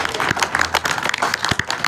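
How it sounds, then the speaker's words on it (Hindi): Applause from an audience at a Bihari Culture Day gathering, a dense, steady patter of many hands clapping close by for the whole stretch, with faint crowd murmur underneath. "आप लोग इसके लिए हौसला अफजाई करें और तालियां बजाकर बताएंगे आपको"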